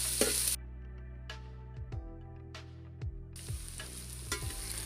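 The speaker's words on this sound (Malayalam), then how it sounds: "സവോള നല്ലപോലെ വാടി വരുന്നവരെ നമുക്കൊന്ന് വെയിറ്റ് ചെയ്യാവേ" Sliced big onions with fenugreek sauté in oil for a Kerala beef curry, a faint sizzle under a low steady hum, with occasional stirring scrapes and a brief brighter hiss at the start and end.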